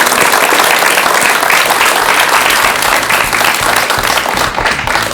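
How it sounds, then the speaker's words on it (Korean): Strong, sustained applause from a studio audience for a Buddhist monk on a talk program, dense clapping holding at high volume throughout and easing slightly near the end. "좋은 말씀 해주신 스님께 여러분 큰 박수 부탁드립니다."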